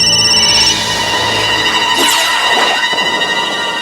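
A phone rings at home, a steady electronic ringtone playing loudly and continuously for a few seconds with no speech over it.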